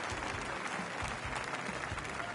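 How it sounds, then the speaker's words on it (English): Crowd applause and cheering from a PGA Tour golf video game, a steady broad wash of clapping that holds at an even, moderate level throughout. "Everyone's cheering"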